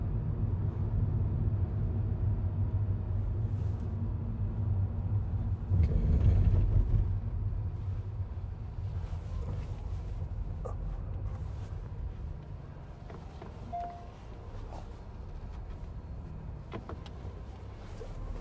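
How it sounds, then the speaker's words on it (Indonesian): Hyundai Stargazer X 2023 with IVT transmission accelerating hard in sport mode on a test drive area, a steady low engine and road rumble heard from inside the cabin, swelling briefly then holding even, with no talk. "Ini mode sport, dan langsung kita tancapkan gas."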